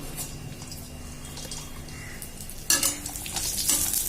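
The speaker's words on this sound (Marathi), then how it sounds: "थोडी थोडी करून खारीक पण आपल्याला तळून घ्यायचे" Dried dates (kharik) frying in a pan for winter laddoos: a soft sizzle with light stirring scrapes, then a sudden louder burst of crackling near the end, close up and without speech.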